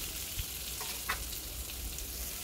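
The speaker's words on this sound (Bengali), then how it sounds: "আলু আর পুঁই ডাঁটা আবারও একটু নেড়ে চেড়ে নেব 2 থেকে 3 মিনিট" Potatoes and Malabar spinach stems stirred while frying in a pan, giving a steady moderate sizzle with a few soft scraping stir strokes.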